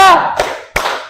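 A group performs the tepuk rimba clapping chant: a voice calls out, then two sharp, loud hand claps follow in quick succession, echoing briefly in a room.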